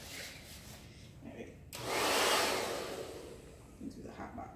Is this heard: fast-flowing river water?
no